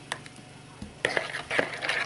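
Warm water and vegetable oil are stirred briskly in a bowl for pizza dough, with soft sloshing and light scraping against the sides after a brief pause.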